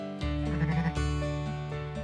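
A sheep on a farm, recovering after veterinary treatment, bleats in a long, wavering harmonic call that carries through most of the moment, fairly close and clear over a low steady background hum.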